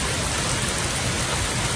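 Heavy thunderstorm rain pours over metro Atlanta as a dense, unbroken roar of water, loud and steady from start to end with no voices.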